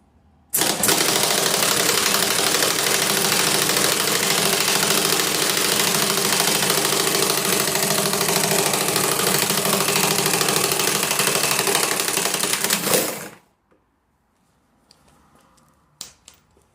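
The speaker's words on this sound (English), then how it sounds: "The compressor needs to charge up, that's why it's very slow" A workshop air compressor runs steadily and loudly for about twelve seconds while building pressure during Saab 9-3 engine mounting work, then cuts off, leaving near silence with a few faint clicks at the end.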